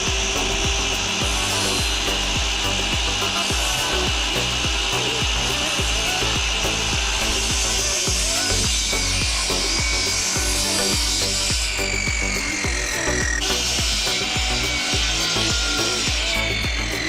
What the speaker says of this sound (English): I'm going to add a beveled top on all 4 sides along the top so that it just looks more finished.